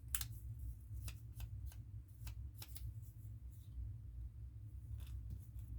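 Scissors snip through printed paper, cutting out words for a candy wrapper cluster craft; a run of short, crisp cuts sits over a steady low rumble, fairly close but quiet.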